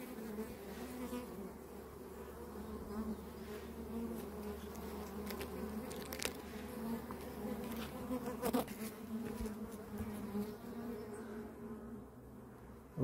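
Honeybees hum in a top-bar hive during spring swarming season, a continuous low drone with no breaks, accented by brief louder buzzes as individual bees pass close by.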